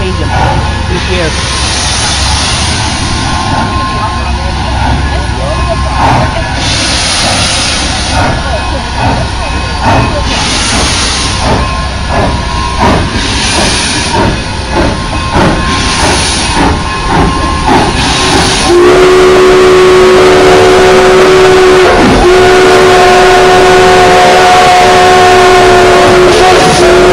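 Steam locomotive whistle at the Durango and Silverton Railfest, a loud, sustained multi-tone blast that rises out of rumbling engine noise and hiss partway through and holds steady, with people talking nearby.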